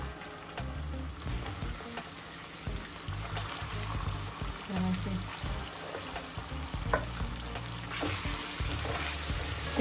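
Mutton hits hot oil in a frying pan for mutton chana boti after bay leaves have been sautéed, giving a steady, close sizzle with scattered crackles and stirring scrapes throughout.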